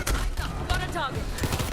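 Rapid gunfire from a looter shooter game rattles in clustered bursts with thuds, mixed with a person talking over the action throughout.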